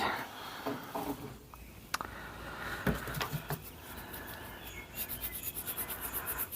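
Cloth or hand rubbing over a micarta knife handle on a Civivi Appalachian Drifter 2, cleaning off residue, heard as soft close scratchy strokes with a few sharper ticks and a quicker rhythmic run of rubs toward the end.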